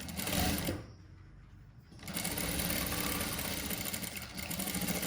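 Sewing machine stitching the sleeve of an A-line frock, a steady close whir that pauses briefly and then resumes running continuously.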